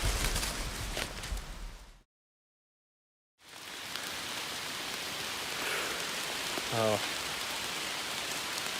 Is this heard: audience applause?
no